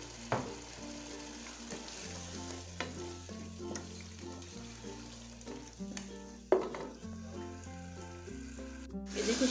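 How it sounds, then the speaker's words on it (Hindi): Chicken frying in a pan of cooked masala, a steady close sizzle with stirring and scraping throughout, while a low tonal melody plays beneath and no one speaks. "देखिए चिकन बहुत अच्छा सा भून चुका है।"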